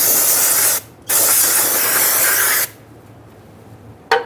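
An aerosol cleaner hisses onto the brake rotor of a 2010–2013 Kia Soul during rear wheel bearing and hub work. Two long, loud, close spray bursts are followed by a brief final puff.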